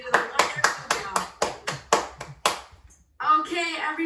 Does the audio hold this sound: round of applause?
yes